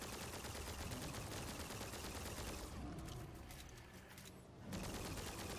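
Rapid sustained automatic gunfire from the video game Zombotron, a dense loud stream of shots that briefly thins out before resuming at full intensity.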